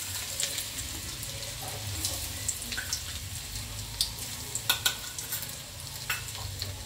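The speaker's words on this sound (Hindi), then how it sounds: "कढ़ाई में अपन ने तेल 1 चम्मच तेल लिया है, और इसे अदरक और लहसुन का पेस्ट डालते हैं इसमें।" Ginger garlic paste frying in a teaspoon of hot oil in a kadai gives a steady close sizzle, with scattered clicks and scrapes of stirring.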